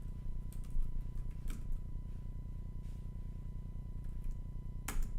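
Fingers type on a computer keyboard, entering a name in capital letters: soft scattered key clicks with a couple of sharper taps, close and quiet over a low background hum.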